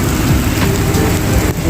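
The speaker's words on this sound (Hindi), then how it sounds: "बहुत ही तेज़ किस्म की बारिश हो रही है" Very heavy rain in Jeddah, a loud, dense, continuous roar of downpour with a faint low rumble beneath it, and no voices.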